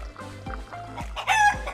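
Chickens cluck in a busy yard, and a rooster crows loudly near the end over steady low background noise.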